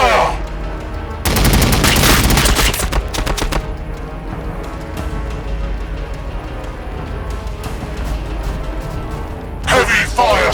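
Gunfire from units in the Warhammer 40,000 Battlesector strategy game, a dense loud volley of rapid shots followed by rumbling battle noise and a short later burst, with voiced unit lines heard.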